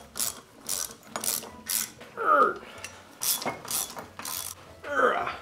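Nylock nuts are tightened on the base bolts of a homemade Gingery metal lathe with a ratchet wrench, making repeated clicking ratchet strokes in a steady rhythm of short bursts, with occasional metallic squeaks, close up and clear.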